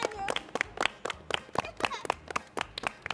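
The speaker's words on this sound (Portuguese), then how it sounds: "Palmas pra Winnie!" A live children's TV show audience claps for Winnie in quick, rhythmic applause, close and fairly soft, with sharp hand claps repeating steadily throughout.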